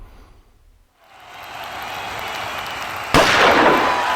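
A starting gun fires for a schoolyard race, a sudden sharp crack that cuts through a rising wash of crowd noise.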